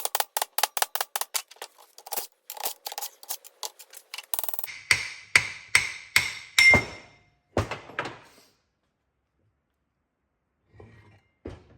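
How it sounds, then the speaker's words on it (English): A hammer knocks an old ring gear off a Ford 8.8 axle: a rapid run of sharp metallic strikes that slows into heavier, spaced blows, then fades to quiet with a faint scrape near the end. "If I was going to reuse this ring gear, I wouldn't recommend smacking it with a hammer."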